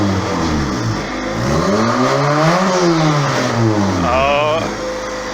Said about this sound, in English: Sounds like a turbo though. It spools.